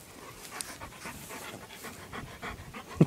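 A dog pants close by in quick, rhythmic breaths outdoors, steady and fairly soft throughout, with no talking.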